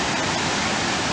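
Steady broadband roar of the waterfalls at Letchworth Park, heard from the viewpoint below after a descent of 127 steps, a constant close rushing wash with no voices.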